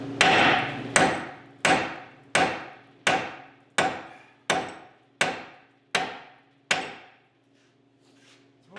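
A hammer strikes a protected nut on the suspension knuckle of a 2008 Hyundai Santa Fe about eleven times in a steady rhythm. The metallic blows are sharp and ringing, each decaying quickly, followed by a brief quiet pause.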